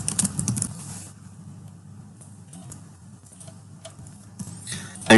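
Rapid keystrokes on a computer keyboard enter a description, a close series of quick clicks in irregular bursts with a louder tap at the end.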